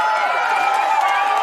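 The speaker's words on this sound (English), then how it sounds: "let me get some applause happening" Dense crowd noise with steady clapping and cheering, loud and continuous, like a large audience applauding.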